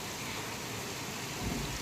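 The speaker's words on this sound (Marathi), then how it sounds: "कसला जोरात पाऊस पडलेला आहे" Heavy rain pours steadily and loudly, a dense continuous hiss with a low rumble, no voices.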